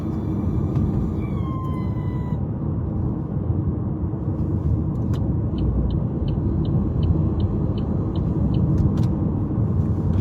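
An SUV driving through dense traffic, heard from inside as a steady, loud engine and road rumble, with a brief rising whine early on and a faint repeating beep later.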